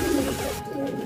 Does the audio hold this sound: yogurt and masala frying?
no